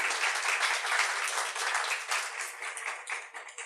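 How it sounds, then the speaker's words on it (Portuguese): An audience at a leadership talk event gives dense, sustained applause to welcome a speaker to the stage, with a steady wash of many hands that thins out slightly toward the end. "eu queria uma salva de palmas"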